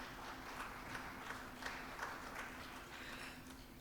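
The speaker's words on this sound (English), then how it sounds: "Please give your hard-working executive a round of applause." Applause for an association's executive at a Caribbean higher-education general meeting, a steady patter of many hands clapping in a hall, moderate and even throughout without a clear build or fade.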